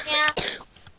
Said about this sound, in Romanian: Scuzați tușitul.